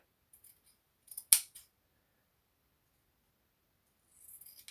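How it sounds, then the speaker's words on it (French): Scissors snip through fabric while cutting pieces for a sewn gift pouch, a few quiet close snips with one sharp louder cut, then soft rustling near the end. "Et on va couper en biais."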